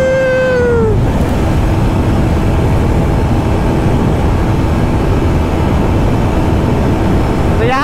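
TVS Apache RTR 160 4V motorcycle engine at high speed in a top-end race, a loud continuous roar buried in heavy wind rush throughout, with a brief voice at the start.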